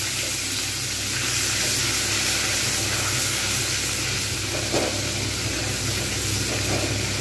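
Ginger garlic paste sizzling and steaming steadily in a pan after a splash of water, a continuous close hiss of frying with no talk, for a potato and lentil-dumpling curry.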